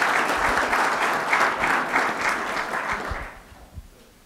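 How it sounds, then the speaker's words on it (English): A crowd applauds steadily with dense clapping for about three seconds after a talk at the Nixon Library, then the clapping thins out and fades to a few scattered claps. "Let's give him a round of applause."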